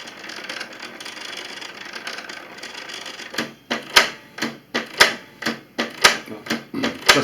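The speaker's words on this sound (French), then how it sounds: "Ça, c'est les balais qui nettoient la buse." Inside a Canon MG2550S inkjet printer, wipers clean the print head nozzle: a soft mechanical whir gives way to a run of sharp, evenly spaced clacks, roughly two per second, close and loud.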